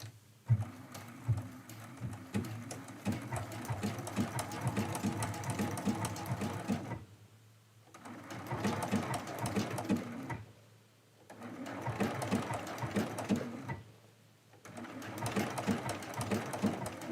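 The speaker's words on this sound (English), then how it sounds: "So I'm going to stitch out this first stem" A sewing machine stitches the stem of a medallion quilt, running in three steady bursts with short pauses between, its close, busy needle clatter filling each run.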